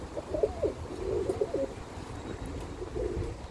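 Birmingham Roller pigeons coo softly in a loft, with several gentle rolling coos over a low background rumble, fairly faint and with no talking.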